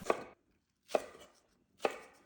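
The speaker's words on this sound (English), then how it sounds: "Start by chopping the green onions," A knife chops green onions on a cutting board in three distinct, evenly spaced strikes, close and crisp, with silence between the cuts.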